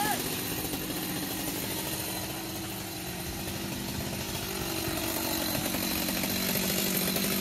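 A chainsaw cuts through an old conch tree (xà cừ) on a rooftop, its engine running loud and steady throughout with a constant buzzing whine, close by and without pause.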